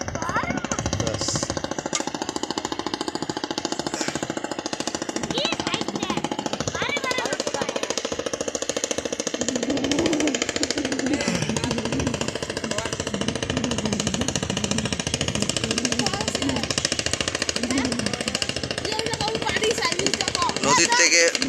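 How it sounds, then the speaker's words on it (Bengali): A sand-dredging trawler on the Brahmaputra river passes with a loud, harsh, continuous pounding engine clatter that stays close and steady throughout, with voices faintly mixed in. "নদীর থেকে বালু তোলা ট্রলার যাচ্ছে"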